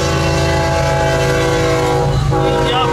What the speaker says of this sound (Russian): Они просто сигналят всегда на переездах.